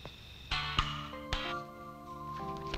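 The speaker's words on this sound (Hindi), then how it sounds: "अपन उसे फोन करने वाला है।" A series of electronic tones in a quick sequence, several short clicks and sustained beeps stepping between pitches, like a phone being dialed.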